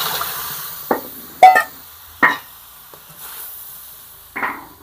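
Stuffed bitter gourd and its water go into a hot pan, giving a few separate short bursts of splashing sizzle and clatter, close and moderately loud, with quiet gaps between and no talking.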